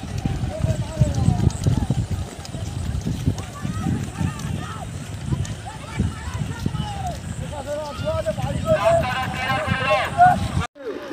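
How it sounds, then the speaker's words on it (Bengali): Racehorses galloping in a village horse race on the Gopalnagar field, their rapid hoofbeats drumming steadily at mid-distance beneath an excited commentator's continuous voice over a crowd. "পরস্পর যাচ্ছে সব ঘোড়া।"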